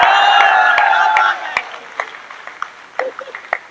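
An audience claps and cheers loudly at a Hindi comedy poetry event. The applause fades over about a second, leaving scattered individual claps.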